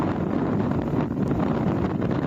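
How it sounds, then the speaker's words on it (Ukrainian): Strong wind in a snowstorm in the Carpathian highlands roars as a steady, loud, unbroken rush of noise with gusty buffeting against the microphone throughout. "Сильний вітер збиває з ніг."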